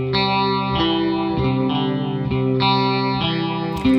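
Electric guitar through a chorus effect, strummed chords changing every second or so, shimmering and slightly detuned, loud and up front with no talking.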